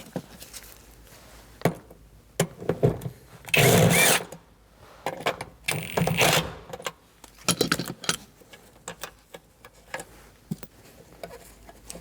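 A 10 mm socket wrench removes the parking brake lever nuts on a 2000-2006 Mini Cooper, giving close metallic clicks and ratcheting with a couple of louder rasping bursts, irregular and without talk.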